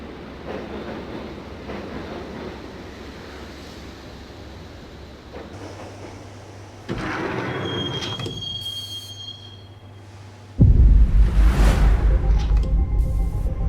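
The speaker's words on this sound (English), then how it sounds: "the train doors had already shut behind me, and I was in for the ride." A subway train ride in the video game Max Payne: a steady rumbling carriage with wheels squealing on the rails, growing louder and harsher toward the end, with no talk.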